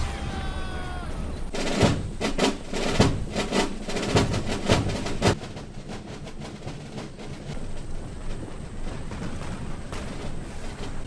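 Artillery and musket fire in a Total War battle of Borodino, with French troops advancing on the Fleche redoubt, heard as a cluster of sharp booming cracks and rattling volleys that fades into a continuous low battlefield rumble.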